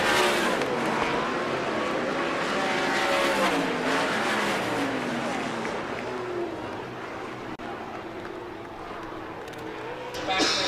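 Sprint cars in the final heat race at Port Royal roar side by side out of turn four toward the checkered flag. The engines drone loud and continuous with rising and falling pitch as they pass, under an announcer's excited commentary.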